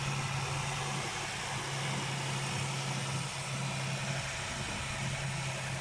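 A car engine idles steadily with the hood open, a smooth continuous hum holding at an even level throughout with no breaks or revving.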